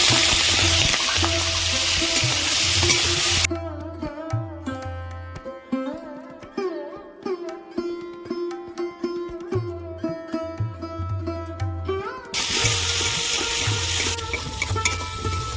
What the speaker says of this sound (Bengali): তেল গরম হয়ে গেছে প্রথমে আমি চিংড়িগুলো ভেজে নেব